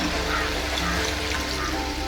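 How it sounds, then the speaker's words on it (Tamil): Water pours steadily and continuously into a pot of cooking mutton intestine curry, a dense, close rushing splash with no breaks and no voices. "இது வேக கொஞ்சம் தண்ணி ஊற்றிக்கலாங்க"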